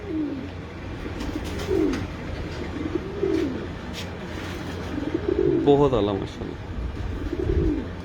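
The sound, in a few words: pigeons cooing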